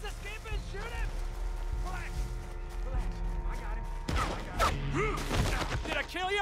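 Gunfire and shooting mechanisms in a video game crackle beneath excited talking, with a sudden loud burst of shots partway through amid layered game noise and voices.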